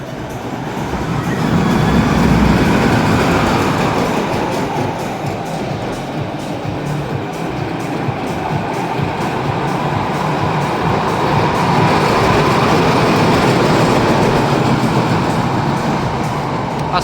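A roller coaster train at Walibi Holland rumbles along its track in a continuous roar, swelling and easing slightly as it runs, with a faint rattling clatter throughout.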